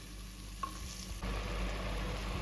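Chettinad fish curry masala, thinned with a little water, boils in a pot in a home kitchen, giving a steady bubbling hiss that swells louder about halfway through; no voices.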